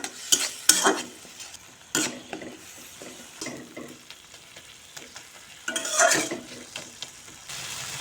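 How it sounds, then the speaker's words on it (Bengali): Spice masala with tomato paste and a splash of water is stirred and sautéed in a pan, with bursts of scraping spatula strokes over a low continuous sizzle, close and fairly quiet. "এবার সামান্য জল দিয়ে ভালোভাবে মশলা কষিয়ে নেব"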